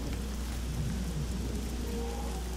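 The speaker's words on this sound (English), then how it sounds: "Ah, it's raining." Steady rain in a fantasy video game, a dense continuous hiss with a low rumble underneath that could be distant thunder, loud and unbroken with no talk.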